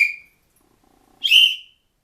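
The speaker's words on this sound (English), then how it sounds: "An example of the two different kinds of whistle tones that are on these two whistles," Two safety whistles are blown one after the other: a short piercing high-pitched blast that fades out, a brief pause, then a second slightly lower, rougher blast from the larger whistle, both loud and close.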